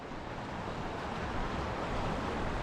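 Steady, loud wind buffets the microphone beside a river on a gusty day, a continuous broadband roar with no pauses.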